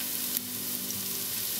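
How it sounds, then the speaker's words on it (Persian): Onions sizzle steadily in a hot pan, a constant close hiss of frying with faint stirring underneath and no talk. "پیاز رو تفت میدیم."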